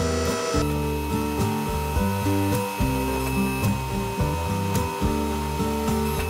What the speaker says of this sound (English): there's air in the lines right now, so it's purging itself